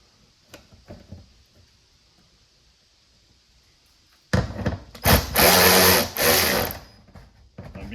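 A ratchet tightens bolts on a garage door during spring, roller and cable repair, first heard as faint clicks and then a loud burst of rapid ratcheting lasting a few seconds.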